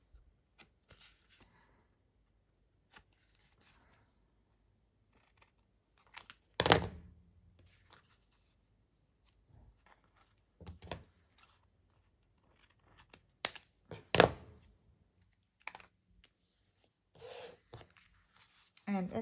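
Scissors cut a paper tag shape, making sparse, quiet snips and rustles separated by silences, close up.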